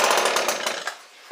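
An ECHO ES-210 shredder vac small engine fires briefly on cold start, giving a rapid rattling burst of pops that fades within a second, followed by a short sharp clatter.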